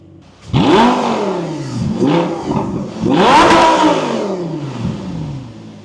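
A Lamborghini Gallardo engine revs loudly and close, rising in pitch through two strong pulls, each easing back through shifts, with the exhaust dominating throughout.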